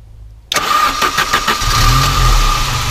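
A 1989 Saab 900 Turbo SPG with a five-speed cranks and catches after a brief silence, then settles into a steady, loud idle heard close by.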